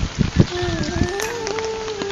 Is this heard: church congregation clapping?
no